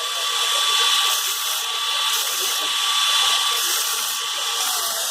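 A Burr King belt grinder with a 60 grit belt at 6,000 surface feet per minute surface grinds hard Maxamet steel, a loud steady high-pitched abrasive whine with a faint rising and falling hiss as the workpiece is passed over the belt.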